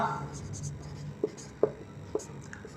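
Pen strokes during a maths lesson on triangles, with a few soft scratchy marks at a steady pace, faint and close, heard alongside some speech.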